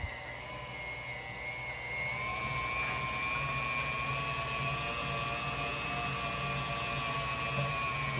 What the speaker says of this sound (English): we finished grinding up the meat